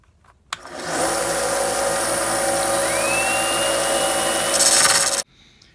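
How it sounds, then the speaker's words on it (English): A belt sander grinds a new soldering iron tip spun in a running drill, a loud steady whirring rasp that starts abruptly, holds for several seconds with a rising whine partway through, then stops. "I'm going to go ahead and turn the sander on"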